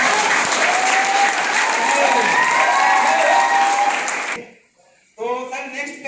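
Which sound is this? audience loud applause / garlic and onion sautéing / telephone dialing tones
audience loud applause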